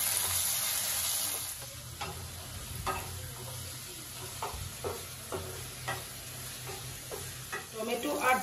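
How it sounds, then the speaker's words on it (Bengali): Tomato, onion and green chili fry in a pan, with a steady close sizzle as a utensil stirs and scrapes through them in a string of sharp clicks and knocks. "এবার আমি ভালো করে টমেটো পেঁয়াজ আর লঙ্কা ভেজে নেব।"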